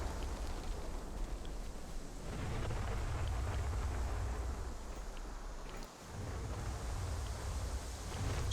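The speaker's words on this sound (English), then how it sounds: "Storm's rolling in and it's starting to get hard to see people." Storm in the video game ChernobyLite, a constant roar of rain and wind with a low rumbling undertone and a brief dip midway, steady and enveloping.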